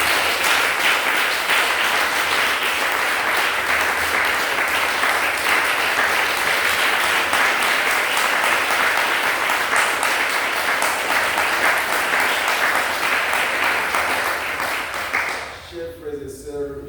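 A church congregation applauding during a fire-adoration worship service, with loud, sustained clapping from a large crowd and voices mixed in, before it stops abruptly near the end.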